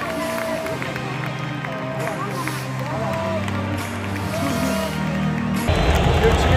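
A stadium crowd at a Club World Cup final ceremony, part booing and part applauding, makes a steady broad roar of mixed voices and clapping, loud and sustained with no clear words.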